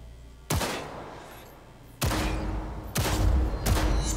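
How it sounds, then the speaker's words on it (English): Gunshots in the video game Cyberpunk 2077 ring out as three loud, sharp blasts, the first alone and the last two closer together, each trailing off in a reverberant decay over quiet room tone. "I'm guessing I shoot him."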